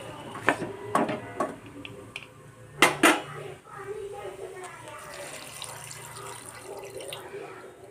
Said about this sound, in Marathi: भाज्या बुडेल एवढेच मी पाणी टाकून घेतलेले आहे।